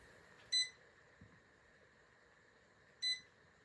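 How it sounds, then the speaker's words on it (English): An ANALOI large digital LED clock beeps while being set: two short, sharp, high electronic beeps about two and a half seconds apart over quiet room tone. "Here's just an example of what that beep sounds like."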